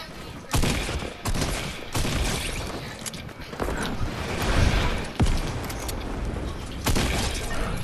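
Gunfire in Fortnite, several loud sharp shots and short bursts spread across the stretch, with mechanical clatter and breaking sounds between them and game noise underneath.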